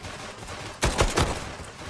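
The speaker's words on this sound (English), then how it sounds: "Don't these gunshots sound good?" Three or four quick gunshots crack in rapid succession in the video game Love and Deepspace, loud and sharp, after a stretch of steady background hiss.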